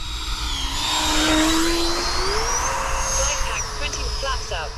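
A Freewing F/A-18 Hornet 90mm RC jet comes in to land with throttle engaged, its steady electric ducted-fan whine rising and gliding in pitch over a constant rumble of wind and background noise.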